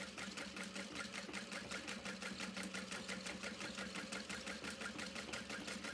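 A sewing machine top stitches very thin black leather at long stitch length, a fast, steady, even mechanical chatter running without pause, close and alone.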